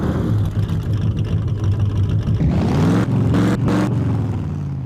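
A Ford Mustang engine growls loudly and steadily, a deep low rumble that rises in pitch as it revs toward the end, with no talk over it.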